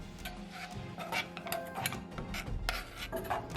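Steady rhythmic scraping and clinking of a spoon stirring milk into a whipped dalgona coffee mixture with cocoa powder, close and continuous with repeated strokes against the bowl.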